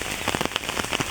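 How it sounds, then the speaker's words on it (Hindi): Rain falls steadily on a waterlogged farmyard beside a sugarcane field, a dense close patter of drops hitting the surface throughout, with no voices. "और अभी इस टाइम बारिश हो रही है।"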